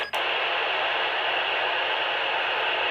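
Ham radio receiver hissing with its squelch turned off, a steady loud wash of broadband static that begins after a brief click and continues unbroken with no voices.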